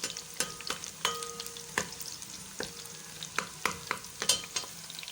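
Onions fry in a pot for kadhi pakora, giving a soft steady sizzle broken by repeated scraping clicks of a spoon stirring against the metal. The sound is close and fairly quiet, with no talking.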